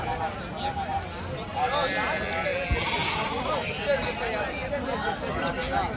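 Sheep bleat repeatedly over a busy crowd murmur, several animals calling at once in a noisy open sheep and goat market.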